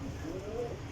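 Pigeon cooing in a breeder's loft, a low soft murmuring coo heard close up against steady background noise, with no clear pauses.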